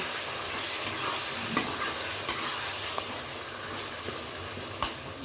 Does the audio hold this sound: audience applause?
no